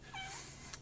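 A cat gives a single faint meow with a rising-then-falling pitch, followed by a tiny click near the end, all in a quiet room.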